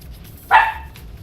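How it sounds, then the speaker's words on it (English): A puppy gives one short, high yip of a bark in the background, brief and fairly faint against a quiet room. "I apologize for my puppy in the background"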